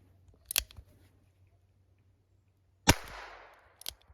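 A few sharp gunshot cracks from a Weihrauch Arminius HW4 2.5-inch revolver, fired single-action, ring out spaced well apart. The loudest has a short echoing tail, and the rest of the time is quiet.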